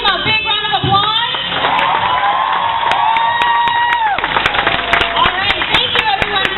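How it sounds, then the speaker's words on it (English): An audience at a cosplay walk-on event bursts into loud applause, cheers and whoops, a dense crowd roar with sharp claps running throughout, with a voice briefly mixed in. "Can we give them a big round of applause?"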